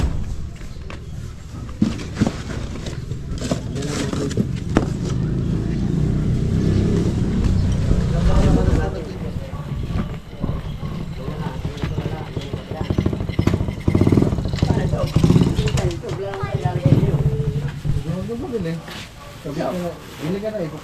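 A motorcycle engine fitted with a new carburetor idles with a steady, low rumble throughout. People talk over it nearby.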